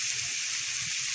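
Milk pours steadily into a bowl during chicken bread preparation, a brief continuous gushing, splashing stream heard close with no talk.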